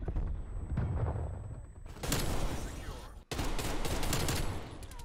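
Rapid gunfire in Call of Duty Cold War, including a Type 63 rifle, with bursts of shots over busy battle noise, a brief gap, then another dense string of loud cracks.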